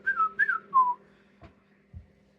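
Three quick melodic whistles rise and fall, made by a person and heard up close, followed by a couple of soft low thumps and otherwise quiet.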